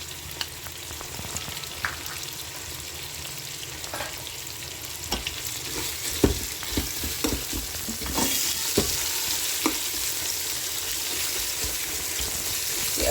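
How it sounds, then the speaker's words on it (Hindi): Garlic ginger paste fries in a pan with softened tomatoes for a chicken korma, giving a steady sizzle as a spoon stirs and scrapes in repeated clicks and scuffs. "अदरक लहसुन के पेस्ट को 2-3 मिनट पकाएंगे"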